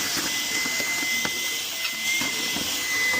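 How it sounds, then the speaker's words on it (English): A Dyson vacuum cleaner whines steadily while sucking debris out of the engine air filter box of an Audi B9 S4 with a 3.0T engine, with faint knocks and rattles of the nozzle against the housing. "let me get the vacuum real quick and I'm gonna vacuum this out"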